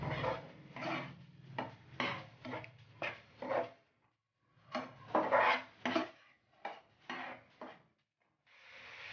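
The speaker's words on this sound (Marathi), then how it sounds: "ते व्यवस्थित असं मिक्स करून घ्यायचं आहे" Spoon clinking and scraping in a small bowl as dark soy sauce and vinegar are stirred together for veg noodles, a quick run of close, rhythmic taps and scrapes in two bursts, alone without talk.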